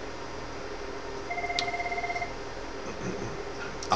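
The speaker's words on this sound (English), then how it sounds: "And we get a call." An incoming call rings on a unified-communications conferencing system, one electronic trilling ring lasting about a second over a steady background hiss, fairly clear and close.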